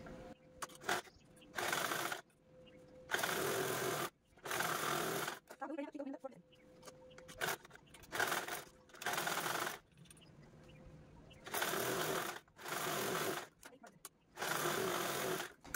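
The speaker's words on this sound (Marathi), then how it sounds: "या तीनही बाजूने स्टिच करून घेऊ" A sewing machine stitches fabric along three sides in a series of short, loud motor bursts, each a second or two long, separated by brief pauses, with one quieter mechanical whir in the middle.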